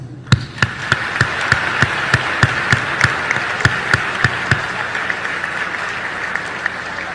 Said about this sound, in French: À vous donc ce concert d'applaudissements.